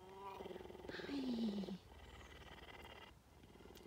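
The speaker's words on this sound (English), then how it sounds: "It's purr." A pet cat purring close up, a low rhythmic rumble running under a woman's soft, affectionate talk, with a brief vocal whine and slides mixed in near the start.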